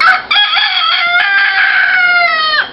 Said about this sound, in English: We've got around about 100 chickens and cockerels. It's the only thing that's going to wake you up in the mornings.